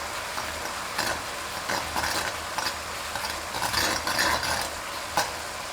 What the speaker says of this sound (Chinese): 熬制糖液的时候，一定要开小火慢熬，用勺子不停地搅拌